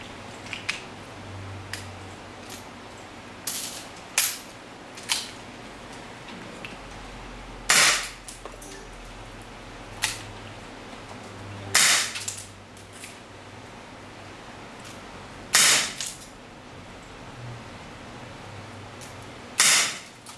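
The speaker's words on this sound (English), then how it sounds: "Now we test the long barrel version with .2 BB and CO2 cartridge." An airsoft gun with a long barrel, powered by a CO2 cartridge and loaded with .2 BBs, fires about seven sharp, close pops at irregular intervals over faint background noise.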